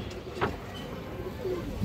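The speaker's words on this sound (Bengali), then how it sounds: "কাজ লাগিয়ে বাঘা হাকি মাদি কবুতর" A Baga Khaki female pigeon gives a soft, low coo amid quiet background noise, one short call early and a fainter murmur later, heard at close range with no voices.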